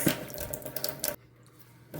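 Shiitake mushrooms are rinsed in water, a soft splashing and trickle that cuts off abruptly partway through, leaving near silence before a faint splash returns.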